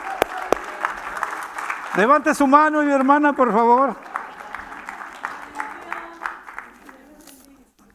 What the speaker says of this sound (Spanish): Le decimos gracias con un aplauso